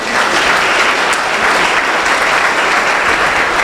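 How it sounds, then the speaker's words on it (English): Loud, dense audience applause fills a hall at an awards night, a continuous roar of many hands clapping at steady intensity throughout with no talk over it. "Give them a round of applause."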